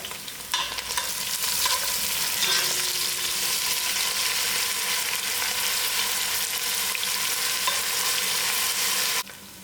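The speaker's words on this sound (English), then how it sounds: "my thyme, and my ginger garlic, and let that to fry." Thyme, ginger and garlic with a cinnamon stick fry in a pot for mutton curry, producing a steady loud sizzle that holds for nearly ten seconds, then cuts off abruptly.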